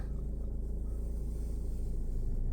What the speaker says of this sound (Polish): Trzeba odpalić ten pojazd po prostu